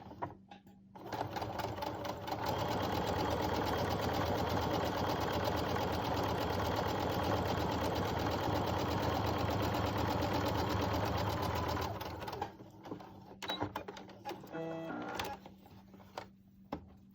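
Sewing machine running steadily for about ten seconds while stitching a fabric mask seam, loud and close, then slowing into a few short bursts.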